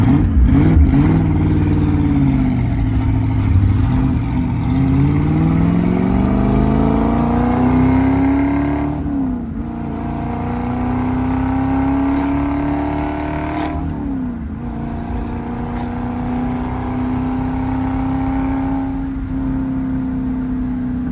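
A 1965 Ford Mustang Fastback with a 289 V8 and four-speed Hurst shifter drives along, its engine droning steadily and rising in pitch through the gears, with brief dips at each shift; loud and close throughout, no talking.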